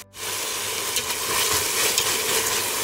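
Vegetables sizzle and hiss in a hot pan while making masala dal khichdi with carrots, mint and coriander, a steady loud frying crackle with occasional stirring scrapes.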